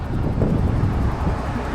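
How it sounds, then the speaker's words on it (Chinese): Strong wind during a sandstorm on a cycling route to Xinjiang, a loud steady rushing roar buffeting the microphone without letup and with no talk. "这边的大风沙尘什么是个头？"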